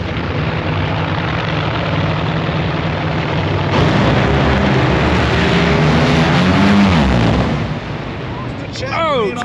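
Nitro Funny Cars of Chad Green and Matt Hagan at the Gatornationals drag race thunder down the strip in a loud, sustained roar that swells, sweeps past and then fades, with crowd noise around it.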